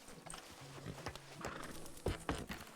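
In the RedM roleplay game, a horse's hooves clip-clop in an irregular walking rhythm, quiet and close, with a few sharper knocks toward the end.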